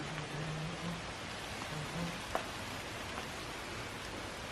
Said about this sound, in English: just thankful to be away from this rain. You can hear it.